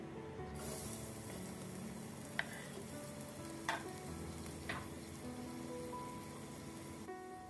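Chopped onion dropped into about two tablespoons of hot oil in a pan sets off a steady, close sizzle that holds throughout, broken by a few sharp clicks and taps.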